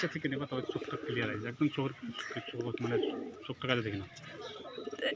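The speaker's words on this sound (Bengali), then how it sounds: "নেক্সট এই যে একটা স্টিল পায়রা দেখানো হচ্ছে।" Steel-coloured pigeons with steel-grey feathers cooing in soft, repeated throaty phrases at close range, with a few faint chirps around them.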